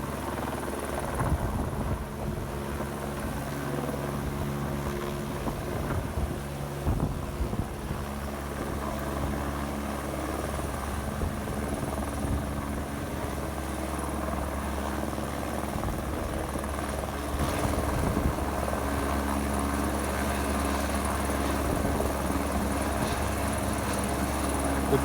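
A helicopter holds a steady hover in the mountains while lifting a pipe, its rotor drone loud and continuous with a rhythmic throb, close by, with no voices throughout.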